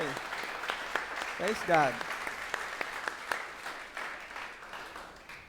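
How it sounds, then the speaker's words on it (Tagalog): A church congregation applauds in a steady patter of clapping that tapers off gradually, while a voice speaks over it and gives a short rising exclamation midway. "Palakpakan po natin si Jesus. The best pong palakpak para kay Jesus."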